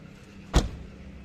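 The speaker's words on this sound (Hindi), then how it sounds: "पीछे दरवाज़ा चेक करते हैं।" A single short thud as the rear door of a 1984 Daihatsu Charade 1000cc is checked, fairly faint against a quiet background.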